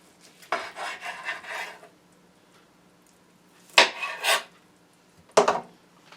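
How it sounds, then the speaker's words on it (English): A knife saws through a bone-in sweet and sour Easter ham on a board, three rasping slicing strokes, the first longer and rhythmic, separated by quiet pauses. "So now we're going to cut this as well into slices"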